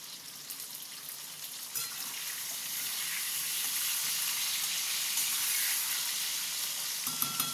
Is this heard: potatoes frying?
yes